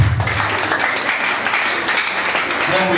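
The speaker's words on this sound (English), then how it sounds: "Please, can you give her a round of applause?" Audience clapping at a community debate on climate change, a dense, steady patter of many hands lasting the whole stretch, with a voice faintly mixed in underneath.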